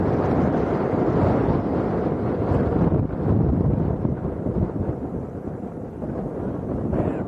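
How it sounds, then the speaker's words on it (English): Strong wind buffets the microphone at Arrecife Airport in Lanzarote, a loud, continuous roaring rumble with gusty swells and dips that runs steadily throughout with no talking. "Ridiculously windy at the moment."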